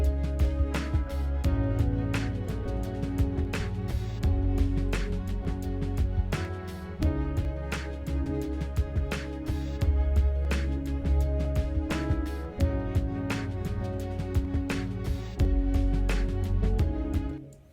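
A steady beat plays with punchy drums and sustained chords, bright trumpet stabs cutting through at regular intervals, looping for several bars.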